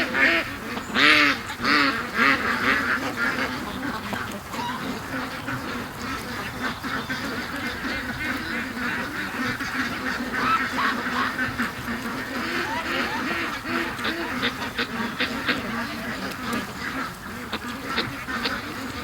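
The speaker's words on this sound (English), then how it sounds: "Free range happy duckies." Flock of free-range ducks quacking continuously and loudly at close range, many overlapping calls throughout, with a voice talking faintly underneath at times.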